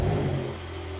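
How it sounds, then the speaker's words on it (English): Porsche 911 Carrera 992.2 with sports exhaust firing up: a loud, steady engine rumble and whir close by, dropping slightly from an initial flare to an even idle, with no talking. "If you want the sports exhaust to kind of automatically open, fire it up."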